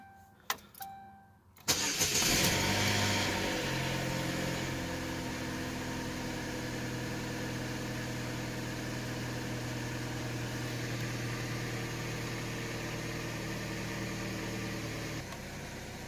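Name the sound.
2004 Chevy Cavalier engine starting and idling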